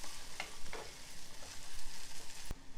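Ginger garlic paste with a pinch of turmeric fries in a pan, a soft continuous sizzle with light stirring scrapes and one sharp tap near the end.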